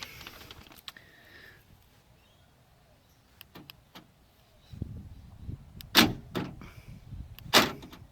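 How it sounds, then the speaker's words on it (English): A car's central locking system clunks as all the doors lock, two sharp mechanical thunks near the end after quieter clicks and rustling, close by with no talk. "If I lock this door, then all the doors lock."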